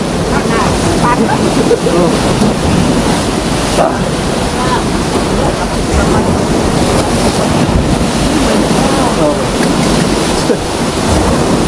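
Big ocean waves surge and wash around a boat at sea, a constant roar of surf and water mixed with buffeting wind on the microphone, with people talking faintly underneath.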